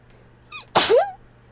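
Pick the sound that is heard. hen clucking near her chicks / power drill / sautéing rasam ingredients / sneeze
sneeze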